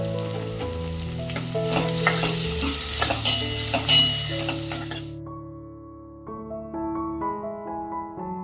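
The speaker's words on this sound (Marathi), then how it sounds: "कांद्यांना चांगलं लालसर होईपर्यंत परतून घेणार आहोत" Onions sauté in a pan with a sizzle and spoon clinks against the metal, under steady background music that carries on after the frying fades out midway.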